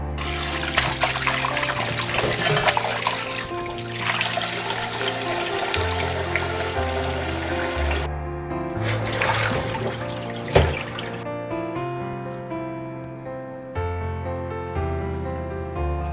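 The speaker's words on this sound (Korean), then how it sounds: "소면을 건져서 찬물에 얼른 헹궈야 하거든요" Cold tap water runs and splashes as boiled somyeon noodles are rinsed by hand, a continuous close pouring and trickling with a few brief pauses and clinks of the bowl.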